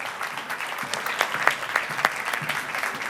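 Welcoming a panelist at an agriculture congress, the audience claps in a lively, uneven burst, several sharper individual claps standing out from the crowd.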